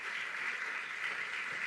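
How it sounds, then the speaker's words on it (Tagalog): Sustained congregational applause for the Lord fills a church service, a dense, steady wash of many hands clapping without break. "Sige, lakas na palakpak para sa ating Lord."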